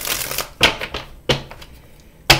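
Tarot cards being shuffled by hand, several short riffling bursts separated by brief pauses, close and crisp.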